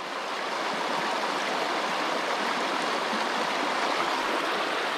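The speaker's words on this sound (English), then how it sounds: "Looking at the water flow, you can get into an optimal position to get as much juice out of the flow as you can." Steady, close rushing of stream water flowing past a Waterlily water turbine, a continuous even wash with no pauses or voices.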